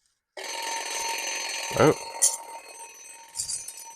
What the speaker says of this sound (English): I guess that alarm clock is working.